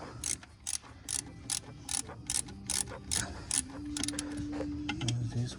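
A torque wrench ratchets on the valve cover bolts of a Chevy Silverado 2500 HD 6.0, giving about a dozen crisp, evenly spaced clicks up close, followed by a quieter hum and a brief tone.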